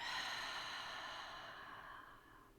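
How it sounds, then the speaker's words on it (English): A single long, soft exhale during a guided meditation breathes out close to the microphone and slowly fades away. "Breathe out."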